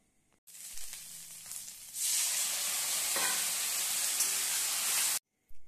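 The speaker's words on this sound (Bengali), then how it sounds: "এবার খুব সামান্য গরম জল দিয়ে আরেকটু ভালোভাবে কষিয়ে নেব" Masala stir-fried with a splash of hot water for a fish and drumstick curry, hissing into a loud, steady sizzle that runs several seconds before cutting off, with faint scraping at the start.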